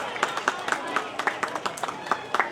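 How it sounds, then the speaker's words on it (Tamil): Audience clapping for an award recipient at a temple ceremony in Tenkasi district, scattered hand claps in uneven bursts at moderate distance, fairly faint and thin rather than a full roar. "அவரை நல்ல கைதட்டுங்க."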